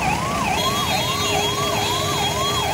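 An ambulance siren wails in a steady repeating up-and-down cycle, loud and close, at the scene of a road accident in Ranchi, with traffic rumble underneath and no talking.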